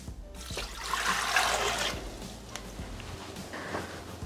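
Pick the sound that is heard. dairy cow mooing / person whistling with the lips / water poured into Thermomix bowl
water poured into Thermomix bowl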